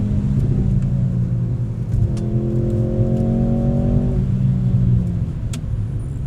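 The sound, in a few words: Mercedes-AMG C43 V6 engine revving after downshift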